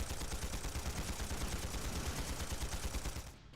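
Rapid, sustained gunfire from the video game Trails through Daybreak, a dense loud barrage of overlapping shots throughout that cuts off abruptly near the end.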